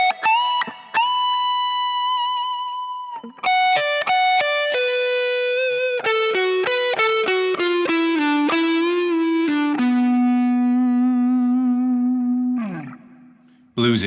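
Distorted electric guitar plays a bluesy lick from a solo: sustained bends, a quick run of picked notes climbing and falling, then a long held low note that dies away, loud and alone with effects.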